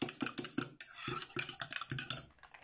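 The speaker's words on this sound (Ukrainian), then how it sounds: "сіль, так, сіль, так гарно взбиваємо" A whisk beats a salted mixture in a bowl, giving fast, rhythmic metallic clicks and scrapes in quick bursts. Each stroke is close and crisp, with short pauses between runs and no talking.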